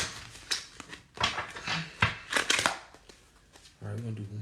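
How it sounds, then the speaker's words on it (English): Oracle cards being shuffled by hand in quick, crisp riffling bursts and taps, close up, with pauses between and a voice talking over parts of it. "we're gonna do one more shuffle"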